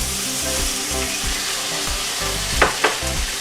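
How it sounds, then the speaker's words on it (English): Chopped tomatoes and well-fried onions sizzling loudly in a pan, a dense continuous hiss with a low hum beneath and two quick spoon scrapes toward the end. "I stir the tomatoes nicely because the onions are almost like, I won't say burned, but really well fried"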